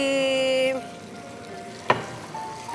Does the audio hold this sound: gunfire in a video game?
no